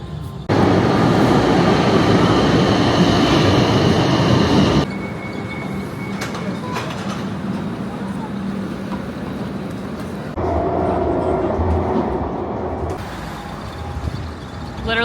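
Porto metro train ride from inside the carriage, with a loud steady rumble of wheels and motor that drops and swells as the train slows and speeds up, and faint wheel squeal and clatter throughout.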